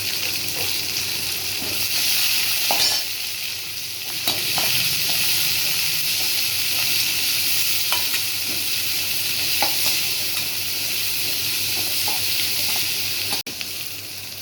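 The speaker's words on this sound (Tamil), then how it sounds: "எண்ணெய் ஊற்றி கொஞ்சம் கடுகு, சீரகம் பட்டாச்சி, கொஞ்சம் சின்ன வெங்காயம், வரமிளகா போட்டுக்கலாம்" Mustard seeds, cumin, shallots, dried red chilies and curry leaves tempering in hot oil for a broad bean stir-fry, a steady dense sizzle and crackle lasting throughout, with a few faint spoon taps, close and even.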